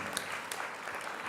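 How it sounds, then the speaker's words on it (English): An audience claps briefly at a panel discussion during Nairobi Innovation Week, giving a soft, continuous patter of hands. "I want a round of applause for that."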